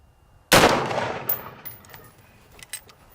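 A single loud, sharp shot from an AR rifle firing a green tip 5.56 round at a bowling ball, close by, followed by a decaying echo and a few faint clinks.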